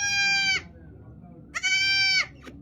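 Young goats bleat for milk in two long, loud, nasal cries with a short pause between them, close by, over a low background hum.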